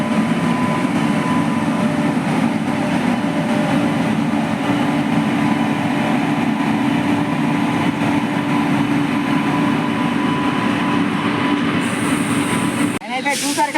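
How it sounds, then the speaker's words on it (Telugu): A long train rolls along a railway track through the Araku hills, a loud, steady rumble and clatter of wagons close by that continues unbroken before ending abruptly. "ట్రైన్ వస్తుంది"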